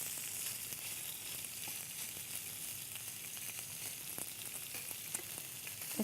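Pieces of smoked meat or fish fry in a pan while being kept moving, giving a soft, steady sizzling hiss with small scattered ticks and scrapes, fairly faint and with no talking.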